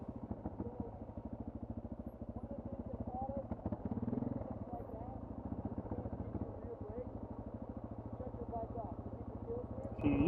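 A Suzuki DR650 motorcycle engine runs with a steady low, throbbing thump, close and continuous, rising slightly around the middle, while people talk over it.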